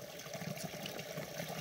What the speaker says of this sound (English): we squeeze it, and the water comes through the filter and into our water bottle